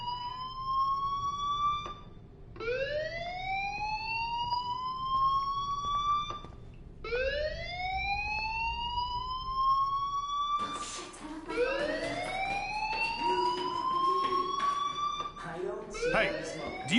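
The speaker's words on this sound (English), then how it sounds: "do you hear that fire alarm?" Fire alarm ringing in the video game Life is Strange, a repeating rising electronic whoop in loud cycles separated by brief gaps, joined near the end by a second overlapping alarm tone, with no talking over it.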